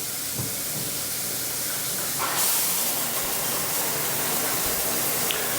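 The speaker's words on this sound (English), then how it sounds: "All right, let's test the shower." A house shower sprays steadily, a broad close hiss that swells partway through and stays even to the end, with no one speaking.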